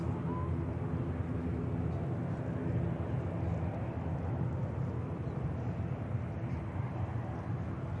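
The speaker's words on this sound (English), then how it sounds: "it's dropping down in height now, that Wildcat." A Wildcat helicopter descends near Manchester Airport, producing a steady, moderately distant rotor and engine drone that holds evenly throughout, with faint voices nearby.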